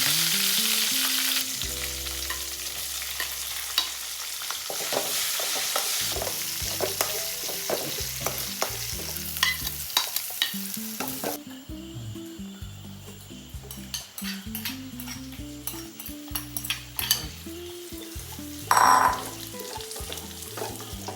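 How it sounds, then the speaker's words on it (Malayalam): Mustard seeds and spices crackle and sizzle in hot oil left from frying termite mushrooms for a pickle, a steady loud frying hiss with popping bursts and occasional stirring and clinks of a pan, and no talk. "ഇവിടെ കൂണ് പൊരിച്ച് അതേ എണ്ണയിലിട്ട് തന്നെ നമുക്ക് കടുക് താഴ്ച വെക്കണം"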